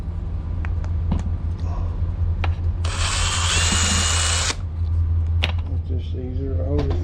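A power drill bores into a glass whiskey bottle for a lamp build, the bit held by hand, giving a loud steady high whine for about two seconds in the middle, with low background hum and brief clicks before and after.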